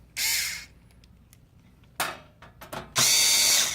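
A power screwdriver drives small screws back into a Sharp MX-M453N copier cover, giving three separate whirring bursts, the last long and loud, with faint clicks and handling noises between them.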